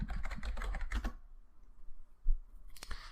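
Computer keyboard typing comes as a short quick burst of close, quiet key clicks, then a pause, then a single tap near the end.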